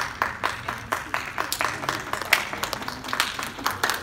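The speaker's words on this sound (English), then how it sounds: "are you clapping for this or for Popeyes?" A few people clap their hands together in a small indoor group, producing a quick run of uneven claps at a moderate distance, with some talk mixed in.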